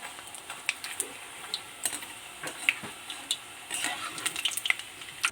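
Luchi, rolled puffed flatbreads, fry in hot ghee with a soft steady sizzle scattered with tiny crackling pops and ticks, close and fairly quiet.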